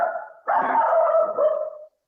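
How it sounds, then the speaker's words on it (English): A pet dog lets out a drawn-out whining bark at home during an online council meeting, one sustained mid-pitched cry with a brief break, fairly loud and alone. "I think someone needs to mute their dog."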